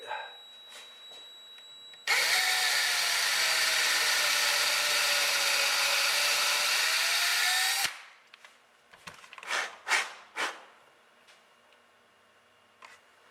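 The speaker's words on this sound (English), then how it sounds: "So let's get this first hole drilled." A power drill whines steadily for several seconds while boring a hole in a guitar body, then stops, followed by a few knocks and handling clatters.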